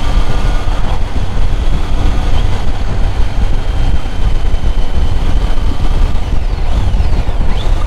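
A Triumph Tiger 800 coasting downhill in fourth gear on a mountain pass, with steady, loud wind and road rush and a low drone running continuously throughout.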